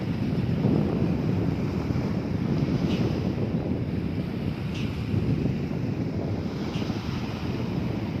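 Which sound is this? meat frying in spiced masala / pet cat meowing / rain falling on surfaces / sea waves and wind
sea waves and wind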